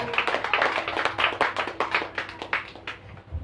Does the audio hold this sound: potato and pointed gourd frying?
no